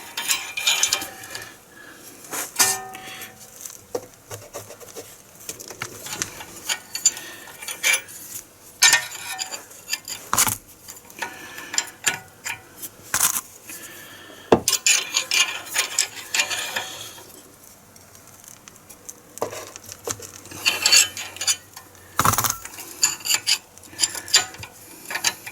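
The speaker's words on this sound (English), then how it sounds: "let me get another wrench so we can crank that down" A ratchet wrench cranks down a ball joint nut on a Chevy Equinox, bursts of rapid metallic clicking repeated in short strokes with pauses and a few tool clanks between, close and loud, no talking.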